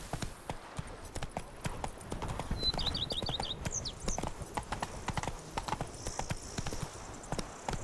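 Horse hooves clip-clop steadily in The Witcher 3 video game, a rapid, even trotting rhythm at moderate volume, with a short whinny-like call and faint ambient sounds behind.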